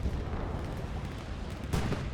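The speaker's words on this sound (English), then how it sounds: "The explosion was outside" A distant explosion in the World War II shooter Hell Let Loose, set in a snowy winter battle, comes as a muffled broadband boom near the end of the clip, rising over a steady rumbling backdrop of battlefield noise.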